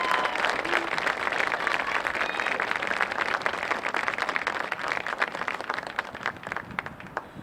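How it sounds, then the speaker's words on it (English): Sustained crowd applause at the 2019 CAA field hockey championship for the runner-up Northeastern Huskies, dense steady clapping from many hands that tapers slightly toward the end. "Let's give the Huskies a round of applause for their outstanding play all year long."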